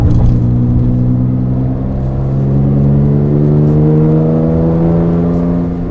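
A Rossion Q1 sports car engine drones loudly and climbs steadily in pitch as it accelerates through the revs, a sustained rising whine with no talking.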